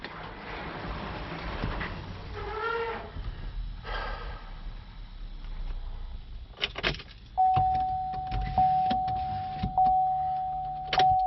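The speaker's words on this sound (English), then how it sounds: "Make sure my garage door is going to work." A garage door opener opens a garage door: a steady motor whine starts partway through and runs to the end, with rattling clatter and mechanical knocks from the moving door, after some rustling and breathing nearby.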